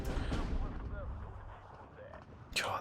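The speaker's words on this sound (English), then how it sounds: "God, this artillery though." Artillery fire in the Steel Division 2 video game: heavy, booming blasts at the start and again near the end, with rumbling between them.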